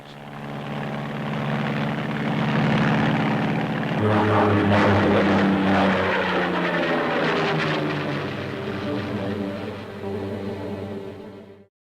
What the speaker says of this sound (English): In action, the darting tail-first Ascender seems to fly backwards.